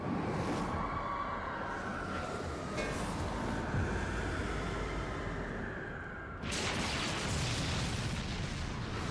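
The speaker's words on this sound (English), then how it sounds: "Red mage flashbang." A red mage flashbang limit break in Final Fantasy XIV, a dense, rumbling burst of game effects that swells, dips briefly, then surges back loud and bright, sustained throughout with no talking.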